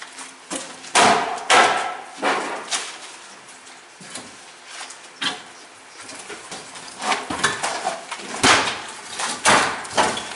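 Irregular sharp hammer blows strike a wooden beam, knocking it out, some loud and close, others duller, with creaks and knocks between them.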